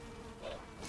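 Bees humming at a beehive in the Valheim game, a short, steady insect buzz lasting under a second at low level, with no voices over it.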